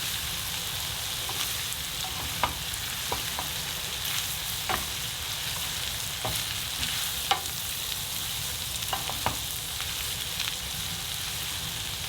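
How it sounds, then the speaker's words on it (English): Green beans tossed into spicy pork mince frying in a hot pan and stirred, giving a steady close sizzle broken by scattered scraping and clattering taps from the spatula, with no voices. "Now I'm going to add the green beans. Just mix really well."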